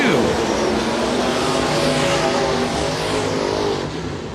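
Race cars roar past on a raceway during a B Main event, a dense, loud engine wall with shifting whines of acceleration that eases slightly at the end.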